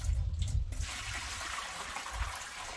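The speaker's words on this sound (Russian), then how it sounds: "Оп. Сливаем воду." Water drained from a jar pours and gurgles steadily for a few seconds, a continuous splashing drain close by with no voices.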